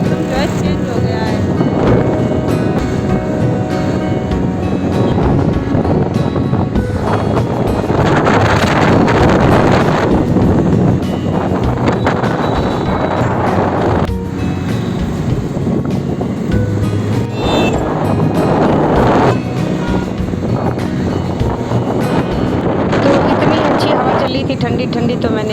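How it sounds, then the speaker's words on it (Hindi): Strong wind roars and buffets the microphone in loud, continuous gusts, with a surf-like rush running underneath throughout. "कितनी तेज़ हवा चल रही है"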